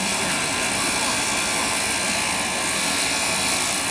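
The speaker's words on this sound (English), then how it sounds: "So let's go ahead and grind this. So you can put a bevel on it." Labradorite (spectrolite) gemstone ground to a bevel on a cabbing machine, giving a steady, loud, high-pitched whining grind with no pauses throughout.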